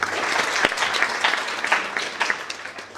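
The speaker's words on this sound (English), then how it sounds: "A round of applause, please." An audience at a live-streamed event applauds a legal panel representative. The many hands clap in a continuous, fairly close wash, with a few sharper individual claps standing out.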